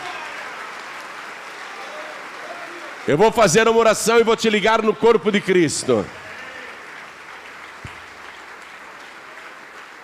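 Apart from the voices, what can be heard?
church congregation applause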